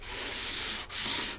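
Sanding block with DA paper rubs along the edge of a 1969 Chevy van's body panel in two steady, close strokes, a hissing scrape with a brief pause between them.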